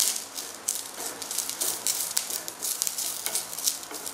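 Curry leaves and urad dal sautéed in a pan over low heat, giving a crackling, rattling sizzle with irregular spurts and stirring scrapes, close up with no voices.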